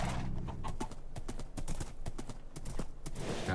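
Horse hooves clip-clopping in Minecraft, the blocky video game, a steady run of distinct hollow clops carried over a constant low background hum, close and fairly loud with no talking.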